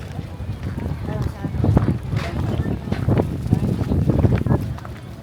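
Strong wind gusts buffet the microphone outdoors at a seaside spot in Puerto Princesa, Palawan, a steady low roar swelling and easing throughout, with people talking nearby.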